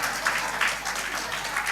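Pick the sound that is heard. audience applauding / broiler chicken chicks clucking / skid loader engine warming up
audience applauding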